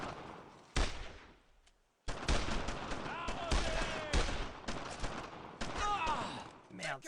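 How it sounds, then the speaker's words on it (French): Machine gun fire rattles in the World War II shooter Brothers in Arms, loud bursts and rapid volleys with shouting and other in-game voices mixed in, briefly dropping near silent before the firing surges back. "faut faire gaffe les mitrailleuses parce que comme il y a une bonne force de tir"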